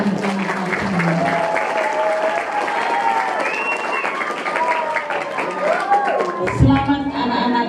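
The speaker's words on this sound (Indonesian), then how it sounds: "Tepuk tangan untuk panitia." Sustained applause from a crowd of students for the organizing committee at a school orientation event in Indonesia, steady and loud throughout, with voices and cheers mixed in.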